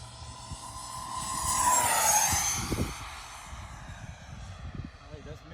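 Freewing F/A-18C Hornet RC jet making a fast fly-by pass, a rising and falling whine that peaks sharply as it passes close overhead and then fades, with people talking in the background.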